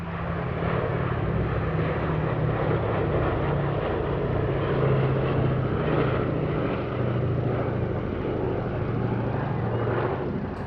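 Propeller engines of a Boeing B-17 bomber on a flypast at an airshow drone steadily with a low, throbbing hum, moderately distant and continuous without letup.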